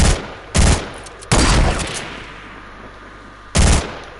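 Video game gunfire while shooting at an opponent: loud separate bursts of rapid shots, four clusters with short gaps, close and dominant with no voice.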